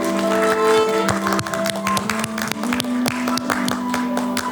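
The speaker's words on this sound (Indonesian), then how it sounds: "Boleh dong kita iringi dengan tepuk tangan yang meriah sekali lagi." Lively clapping from wedding guests, a steady patter of many hands over background music with sustained tones, keeping an even, fairly loud level throughout.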